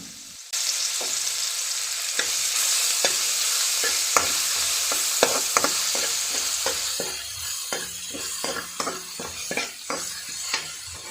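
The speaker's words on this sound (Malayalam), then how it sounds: "ഇനി നമുക്ക് അടുത്തിൽ ചേർത്ത് കൊടുക്കേണ്ടത് നമ്മുടെ വെളുത്തുള്ളി ഇഞ്ചി പേസ്റ്റാണ് അതും കൂടെ ചേർത്ത് നമുക്ക് നല്ലതുപോലെ ഒന്ന് മൂപ്പിച്ചെടുക്കാം" Garlic-ginger paste sizzles steadily in a hot pan, with a spoon scraping and clicking against the metal in irregular strokes as it is stirred, close and fairly loud, no voices.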